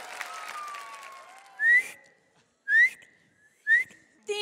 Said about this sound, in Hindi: तीन सीटियां मैंने खुद ही बजा दी हैं